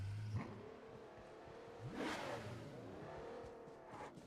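Car engines in the battle royale game PUBG Mobile, steady drone with revving surges and a pitch-sweeping pass near the middle, moderately loud throughout.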